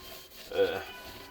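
Brief, close scraping rub as a file and sandpaper take old finish off a vintage banjo, a single short rasping stroke.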